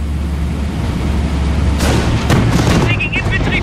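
Infantry gunfire and explosions in the Company of Heroes World War II game, Battle of the Falaise Pocket, loud and dense, with booming blasts and rattling shots over a steady rumble.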